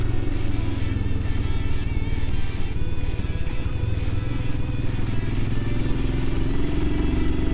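An adventure motorcycle held in third gear while descending a winding mountain road in Patrick County, Virginia, its engine droning loudly and steadily with constant wind and road rumble.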